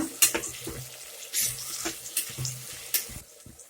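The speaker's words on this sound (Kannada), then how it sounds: "ಟೊಮೊಟೊ ಒಂದು ಸ್ವಲ್ಪ ರೋಸ್ಟ್ ಮಾಡ್ಕೊಳ್ಳೋಣ" Chopped tomatoes fry in a pan with a soft sizzle, broken by scattered clinks and scrapes of stirring at close range.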